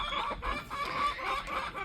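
Farm chickens clucking repeatedly at close range in steady, overlapping calls, with other farm birds nearby and no talk.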